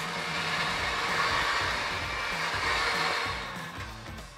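An electric mixer whips aquafaba for vegan macarons, a steady close whirring drone that runs without pause for several seconds, with no voices over it.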